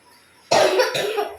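A child coughs hard at close range, two harsh bursts in quick succession that break out of near silence.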